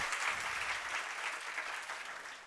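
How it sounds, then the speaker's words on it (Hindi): An audience at a Jain religious discourse in Shirpur claps steadily, a dense, continuous wash of many hands applauding at close range, slowly fading slightly toward the end, with no voices over it. "तो वो ताली आप सुनते जाओ"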